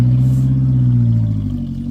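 Farm vehicle engine with a worn exhaust revs loudly and steadily up close, a deep throaty rumble sustained throughout before easing slightly at the end.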